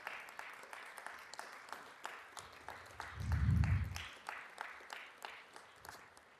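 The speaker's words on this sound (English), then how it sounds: "can we give them a round of applause" Sparse, faint clapping from a small audience applauding a committee at a Black History Month storytelling event, with evenly spaced claps and a brief low rumble midway.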